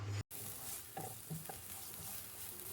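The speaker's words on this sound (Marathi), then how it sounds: "याचं आपण छान थोडं परतून घेऊया." Chopped zucchini, ginger, mushroom, onion, carrot, three kinds of capsicum and garlic sautéing in oil, a constant close sizzle with soft scraping stir strokes at irregular moments, no talk.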